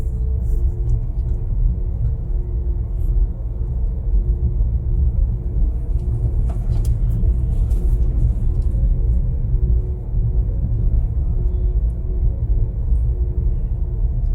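A Wuling Air EV small electric car drives along a narrow, steep road between cliffs toward a village. A steady, close, low rumble runs throughout, with faint brief clicks and no speech.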